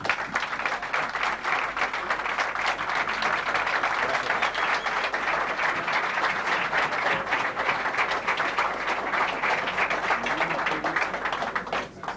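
An audience applauds after musicians perform at a live music clinic, with sustained, dense clapping from a crowd that stays loud and even for about twelve seconds before briefly trailing off at the end.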